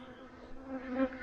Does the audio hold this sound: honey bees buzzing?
yes